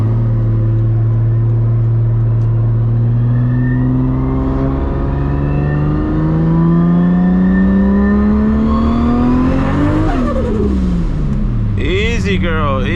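A 1000+ horsepower MK4 Toyota Supra accelerating hard, the engine note climbing steadily through a gear before a brief dip and a fresh rise, loud and close from inside the car, with a voice talking over it.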